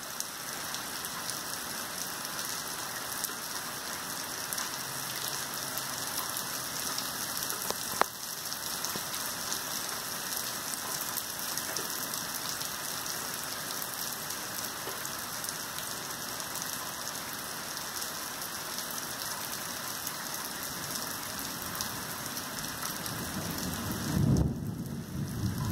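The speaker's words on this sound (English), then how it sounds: "So it's raining." Steady rain falls and patters on surfaces and a downspout in a continuous hiss, with a sharp knock partway through and a louder splash near the end.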